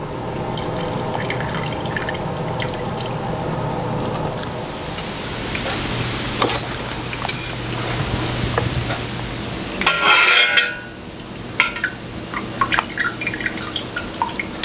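Syrup drips steadily as candied glacé figs are lifted out of it one after another, close and clear, with soft liquid splashes and a brief louder slosh partway through, and no voices.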